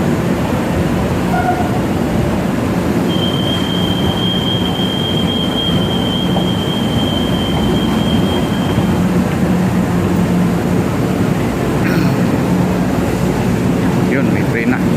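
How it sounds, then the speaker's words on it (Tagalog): An MRT/LRT commuter train rumbles loudly into a station, and a long, high wheel squeal runs through the middle of the approach. Voices of people on the platform can be heard under the noise. "Yun, may train na."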